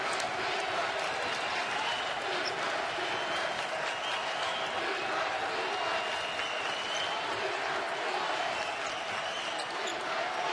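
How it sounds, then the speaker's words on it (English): Spectators at a college basketball game, Wisconsin-Milwaukee against Green Bay, cheer and clap in a sustained, dense roar through the arena, with ball bounces and squeaks faintly audible beneath the crowd noise. "Crowd very much alive."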